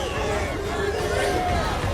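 A chaotic street crowd mobs the streamer IShowSpeed, a dense, steady din of many voices shouting and chattering close by, with scattered yells rising above the babble.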